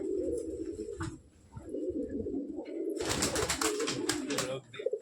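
Pigeons released from their loft coo in low, repeated throaty calls, close by, with a loud burst of wing flapping and clatter near the end.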